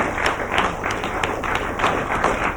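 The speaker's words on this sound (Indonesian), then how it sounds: "Tepuk tangan untuk Bapak Kusmansah" A studio audience applauds for a guest on the Indonesian TV comedy program Benyamin Show, with steady overlapping clapping from a crowd that is moderately loud and continuous.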